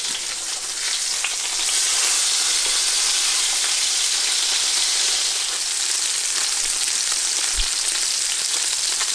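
Fish fillets sizzle loudly and steadily in a hot pan after being flipped, a dense, continuous frying hiss heard close up with no talking.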